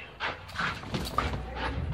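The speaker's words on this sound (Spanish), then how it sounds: "Que ha ladrado como nosotros queremos" A dog barks on command during a training session, giving a couple of quick, moderately close barks with soft whimpery sounds and no talking.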